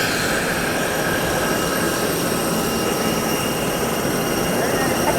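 Steady broadband roar of an airliner's jet engines heard from inside the cabin during a first flight, a continuous loud wash with a high whine on top, holding even throughout.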